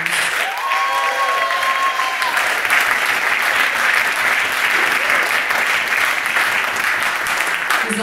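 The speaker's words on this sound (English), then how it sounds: "I just want to give an extra special applause to this fabulous band" An audience gives loud, continuous applause for a live band at a concert. A few faint whoops rise briefly near the start, and the dense clapping holds steady to the end.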